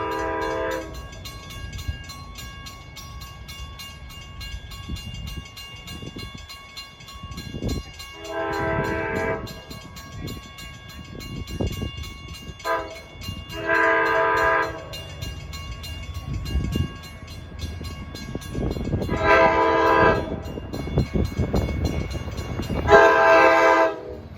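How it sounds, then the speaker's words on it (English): LIRR DE30AC locomotive 418 sounding its K5LA chime horn for a road crossing on the Montauk Branch, several loud multi-tone blasts in a crossing pattern over rumbling, clattering train passage, growing louder and closer toward the end. "That's got one of the better K5 LA horns on the railroad."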